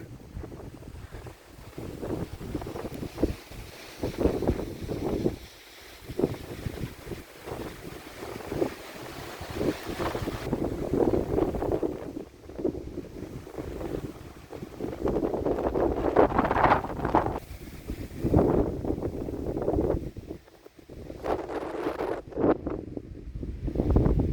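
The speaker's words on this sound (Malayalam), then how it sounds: "നിലവിലിപ്പോൾ ജനുവരി മാസം ആയതുകൊണ്ട് ചെറിയ കാറ്റുണ്ട് കേട്ടോ" Gusty January wind on a hilltop in Idukki, Kerala buffets the microphone in uneven, rumbling bursts, rising and falling throughout with no voices.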